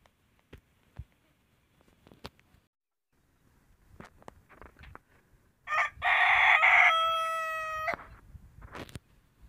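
Kadaknath rooster crowing once, loud and close, a sustained harmonic call of about two seconds after scattered faint scratches and clucks.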